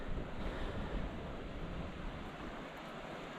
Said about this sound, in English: We've got the river just beneath us.